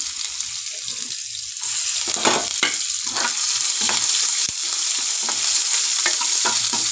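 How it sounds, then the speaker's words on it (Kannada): Onions fry in oil with cumin and mustard seeds, a loud continuous sizzle with a spluttering crackle, punctuated by stirring scrapes, close up and with no one talking. "ಈರುಳ್ಳಿ ಸ್ವಲ್ಪ ಚೆನ್ನಾಗಿ ಫ್ರೈ ಮಾಡ್ಕೊಳ್ಳೋಣ"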